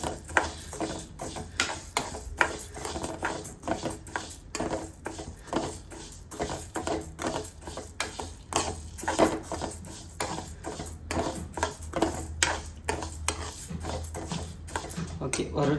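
Lentils being dry-roasted in a pan for sambar, with a steady stream of small scraping, tapping spatula strokes and soft clatter against the metal, with a voice talking at times.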